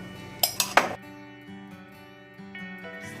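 Three quick bright clinks of dishes ring out as a plate is picked up in a home kitchen making spinach yoghurt soup, followed by a faint tonal hum with soft clattering.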